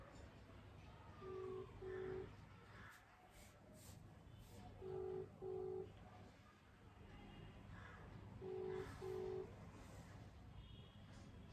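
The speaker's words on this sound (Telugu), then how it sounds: "వీడియో కాల్ చేస్తున్నా." A phone rings out while a video call is placed, giving three pairs of short electronic ringback tones, faint against quiet room noise.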